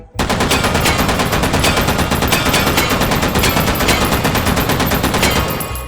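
Sustained fully automatic fire from a DP-28 light machine gun in the VR shooter H3VR, loud and close, a long unbroken rattling burst of rapid shots that runs nearly six seconds before cutting off.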